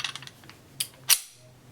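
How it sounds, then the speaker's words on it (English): The slide of a Ruger EC9s pistol is drawn back by hand: a few soft mechanical clicks, then two sharp metallic snaps close up, the second louder, with no talking. "Now, when you draw back on the pistol,"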